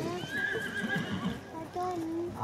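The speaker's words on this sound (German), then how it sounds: "Akra ist ein Pferd, das in seiner Größe über das Ponymaß hinaus" A sale horse at a stable in Gunzenhausen neighing: a loud, wavering whinny up close, with hoof clip-clops and someone speaking German alongside.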